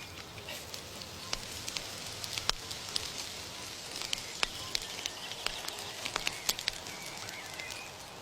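An outdoor bonfire burns in a wartime garden, giving steady crackling with sharp irregular pops and snaps scattered over a soft hiss, moderately close and with no voices.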